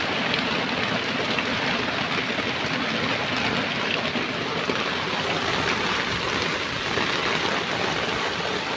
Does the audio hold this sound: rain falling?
yes